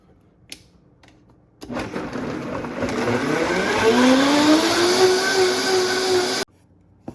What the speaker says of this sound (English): put them in the blender